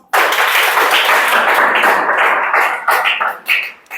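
A classroom of students claps hands together in a dense, steady burst of applause that carries for a few seconds before trailing off in scattered claps.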